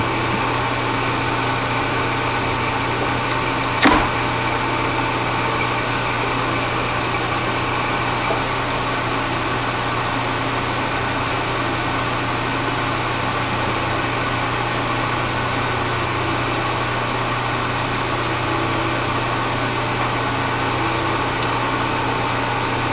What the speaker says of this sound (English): Well, we got up on the lathe just to start it off.